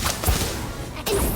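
A Stupefy spell is cast in the Harry Potter: Magic Awakened video game, a loud whip-like crack and swoosh that bursts out, then cuts off into a second rushing hit.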